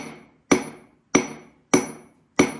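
A hammer pecks the flat face of a stone millstone to rough it for grinding grain: four sharp, ringing strikes spaced roughly evenly, each decaying quickly, close and loud.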